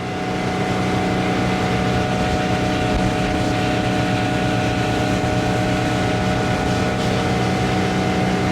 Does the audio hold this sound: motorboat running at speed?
yes